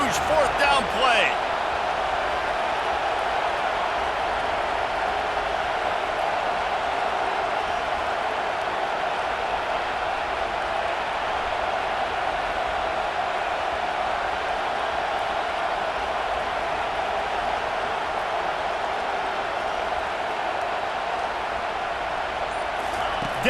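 A stadium crowd in a college football video game roars as one steady, loud, dense wall of noise during a fourth-down play, holding unbroken for over twenty seconds after a brief sharp thump at the start.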